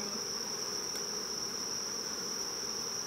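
Honey bees buzz at an open hive just after a bloom has ended, forming a steady, faint, continuous drone with a high whine running through it and no voices.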